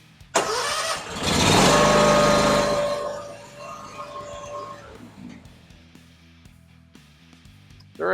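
A John Deere X370 lawn mower engine cranks briefly and catches, then runs loud and close for a couple of seconds before settling into a quieter idle.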